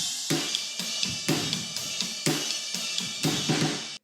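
A drum groove with a snare variation, crisp snare hits and cymbal wash in a steady repeating pattern, close and alone with no talk.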